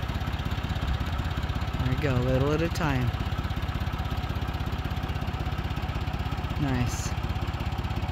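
Steady mid-pitched drone of a tractor engine idling close by while a load of glycol for a HeatMaster 7000 wood boiler is slowly lowered, running under a man's brief spoken directions.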